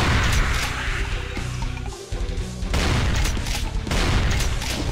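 Shotgun blasts in Brutal Final Doom boom repeatedly over dense, loud game action, heavy explosive hits piling into a continuous roar with a brief dip midway.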